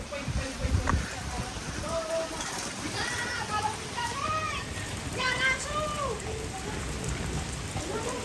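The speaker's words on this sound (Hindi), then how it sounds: "ये क्या ही आतंक मचा रखा बारिश ने देखो आप" Heavy rain pours down steadily with a dense hiss, while people talk over it in the foreground.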